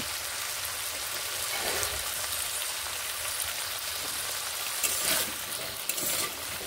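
Potatoes for aloo posto frying under a lid in a pan, a steady, even crackling sizzle throughout with a few brief louder spatters near the end; no voices.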